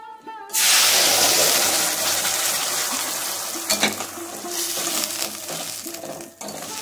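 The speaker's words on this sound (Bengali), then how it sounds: "মশলাটা কষানো হচ্ছে" Ground spice paste sizzles loudly in a pan for Bengali-style ghugni, a dense steady frying hiss starting abruptly and continuing with occasional stirring scrapes and pops.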